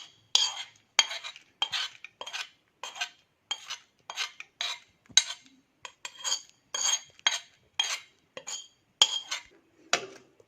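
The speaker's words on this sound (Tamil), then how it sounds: "இப்போ இது எல்லாமே சேர்ந்து நல்லா ஒரு மிக்ஸ் பண்ணிக்கோங்க" A spoon scrapes and clinks against a metal pot while Mappillai Samba rice sweet is mixed with powdered cardamom and ghee-roasted cashews and raisins, in steady rhythmic strokes about twice a second, close and clear with no talk.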